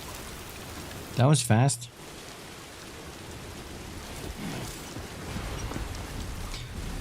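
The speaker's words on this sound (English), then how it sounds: "Type of rain that started falling after the Death Stranding." Timefall rain in the video game Death Stranding 2 falls as a steady, soft hiss throughout, with a brief spoken remark near the start.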